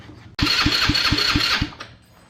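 A GY6 150cc scooter engine with a new piston kit cranks over on the starter for a compression test: six evenly spaced rhythmic compression pulses under a loud whirring starter, ending abruptly, close and without talk.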